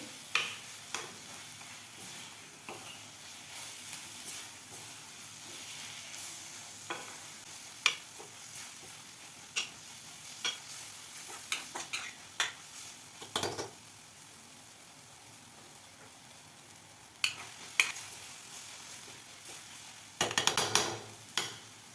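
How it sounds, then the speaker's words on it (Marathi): Tomato chutney with chopped coriander being sautéed in a pan, a quiet soft sizzle under intermittent spatula scrapes and taps against the pan, sporadic and close. "ते एखाद 2 मिनिट छान आपल्याला चटणी अशी परतून घ्यायची आहे"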